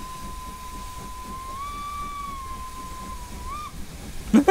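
Steam whistle of the LNER Thompson Class B1 61306 Mayflower in Train Simulator: one long, high-pitched, steady blast held for several seconds, then a brief upward chirp and a faint clunk at the end.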